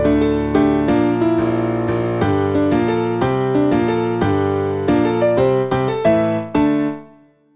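Short dramatic musical jingle blending the Kyogre, Groudon and Rayquaza themes from Pokémon Hoenn, with layered synth chords and a bass line pulsing in a steady rhythm, ending in a ringing final chord, loud and without voices.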